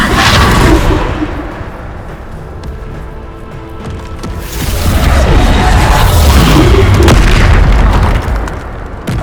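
Bombarda spell explosions in Hogwarts Legacy combat, a continuous heavy rumble of booms and blasts that swells in the second half, loud and close, with game effects layered on top.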